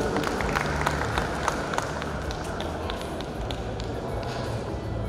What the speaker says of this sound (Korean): 그럼 박수로 가운데로 모시도록 하겠습니다.